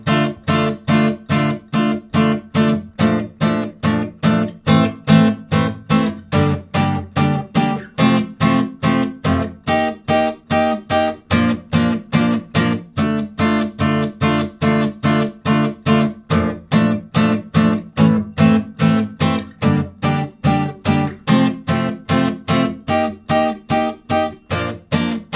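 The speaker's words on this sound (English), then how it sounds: "So if I play the first chorus into the verse chord progression for you" Guitar strumming the first chorus into verse chord progression of a song, a steady, evenly pulsed rhythm of loud chords held throughout without talking.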